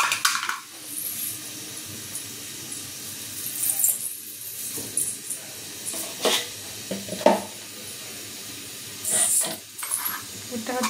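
A spatula works through potatoes and garlic frying in a pan, with steady hissing and sizzling broken by intermittent scrapes and clatters throughout.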